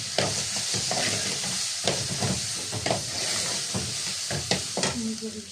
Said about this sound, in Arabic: هنقلب الرز كويس في الزبدة